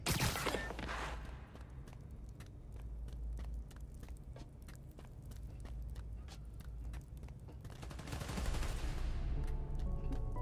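Sustained automatic gunfire rattles through a Spider-Man: Miles Morales game scene, dense rapid shots in long bursts beneath a rumbling background, swelling louder near the start and end.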